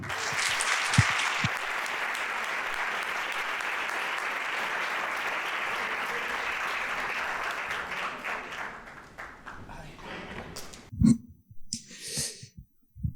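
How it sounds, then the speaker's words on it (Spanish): An audience at a talk event gives a speaker a strong round of applause, a dense wash of many clapping hands that holds steady and then thins to a few scattered claps and small noises. "Maestro de las emociones, gurú del alma, fuerte aplauso, Alex Manejo."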